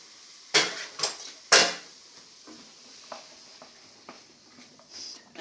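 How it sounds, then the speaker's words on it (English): Beans tipped into a cooking pan for a veggie dish: three sharp clattering thuds of beans landing in the pan, followed by faint scattered taps and a soft sizzle. "So just chuck all your beans in."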